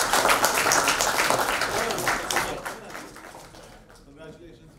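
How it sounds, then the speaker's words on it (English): Audience applause and clapping at a school meet-and-greet event for Habitat for Humanity India, dense and steady at first, then thinning out and fading over the last couple of seconds. "Please give them a big round of applause"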